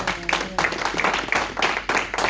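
A church congregation claps and applauds together in bursts of rhythmic, fairly loud hand claps with some voices mixed in.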